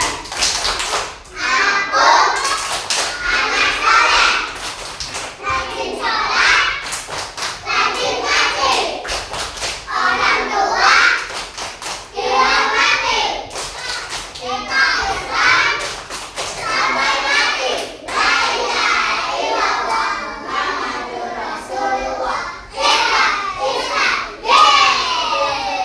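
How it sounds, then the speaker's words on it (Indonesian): Children chant 'tepuk anak soleh', a rhythmic Indonesian clapping song, together with an adult leading them, their voices loud and close, with sharp hand claps punctuating the chant in a steady repeating pattern. "kita tepuk anak soleh dulu"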